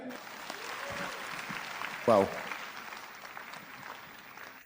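An audience claps steadily at a moderate distance during a service at Cathedral of Praise in Manila, Philippines, while one voice briefly exclaims over the applause.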